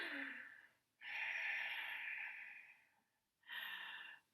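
Ujjayi pranayama breath: three long, loud, close hissing breaths drawn through a constricted throat, with short silent pauses between them and no talking.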